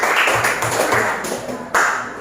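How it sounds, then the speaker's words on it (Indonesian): A class of students claps for classmates who have just presented, a short burst of close, fairly loud clapping with a sharp accent near the end. "tepuk tangan dulu kepada teman-teman kalian"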